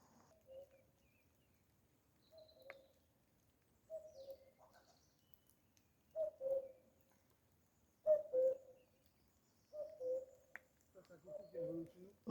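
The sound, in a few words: common cuckoo calling in Fontainebleau forest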